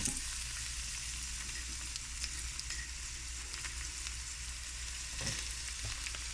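Onions hitting hot oil for a salt cod sauce give a steady, loud, crackling sizzle that runs unbroken, with a few brief clanks of utensils near the end.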